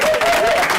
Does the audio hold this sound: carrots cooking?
no